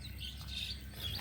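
Birds chirp from nests in a nearby roadside tree in Malaysia, with a few thin, high calls heard close by over a steady low rumble of wind or traffic.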